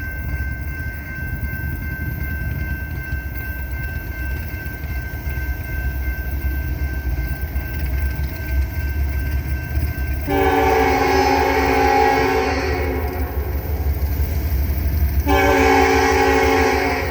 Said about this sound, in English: Eastbound train 29A.